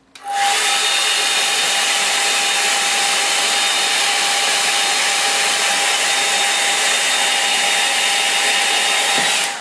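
A dryer runs on a line-and-wash watercolour painting, switching on almost at once into a loud, steady airy roar with a faint whine, holding evenly for about nine seconds before cutting off. No one speaks.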